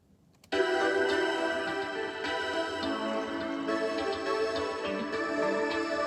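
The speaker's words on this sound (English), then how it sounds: "Hear the guitar in the background there, just punching through." A full music beat with layered tones and steady drums, a guitar riding in the mix, loud and continuous after a brief quiet start.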